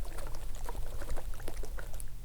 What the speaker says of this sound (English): I immediately took up the shoe and I started shaking it. I was like, there really is like liquid in here.